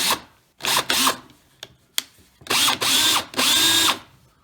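An old DeWalt 18-volt cordless drill, just repaired with new brushes, revs in several bursts: short triggers first, then longer whining runs with rising motor pitch, loud and close.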